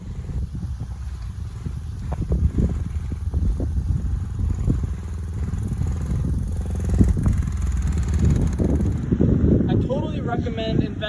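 Motorcycle ride with steady engine drone and wind buffeting, someone talking over it throughout.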